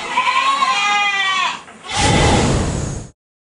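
A loud, close goat bleat with a wavering tone at a goat farm shed in Sindhudurg, followed by a brief rushing noise before it cuts off.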